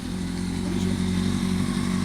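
A motorbike engine in the Roblox game Bakso Malang runs at a steady, low, throaty idle, close and fairly loud, holding the same pitch throughout with no one speaking.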